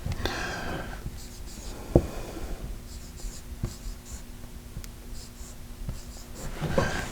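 A pen or pencil scratches quickly across paper, jotting down a number in short bursts of strokes with brief pauses between them. The writing is close and fairly quiet, and there is no talking.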